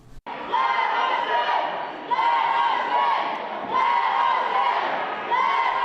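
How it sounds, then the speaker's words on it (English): A loud crowd of several hundred drenched protesters packed outside the second-floor House chambers, a dense sustained roar of shouting voices demanding entry, swelling and dipping in steady waves without pause. "The completely drenched crowd of several hundred parked itself outside the second-floor House chambers, loudly demanding to be allowed in"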